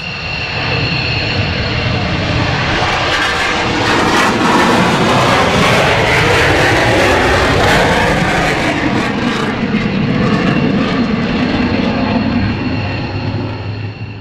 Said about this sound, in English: This F-15 suffered an afterburner blowout.